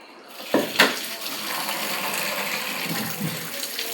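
Elephant foot yam being rinsed by hand in water, with splashing and sloshing that start sharply and settle into a steady wash, heard close with no talking.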